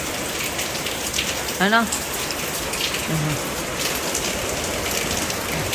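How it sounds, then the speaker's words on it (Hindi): Heavy rain pours down steadily in a dense, continuous hiss close by, with someone speaking briefly over it. "देखो बहुत ही तेज़ बारिश पड़ रही है, बहुत तेज़"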